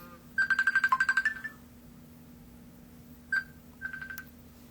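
A phone call ringing out, with a rapid warbling electronic ring burst, then a short tone and a few softer beeps as it cuts to voicemail, close and clear with no talking.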